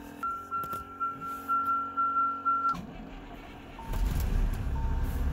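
A Monaco diesel RV engine cranks in a rapid series of starter pulses for about three seconds, then catches and settles into a loud, steady diesel idle that swells louder after a moment.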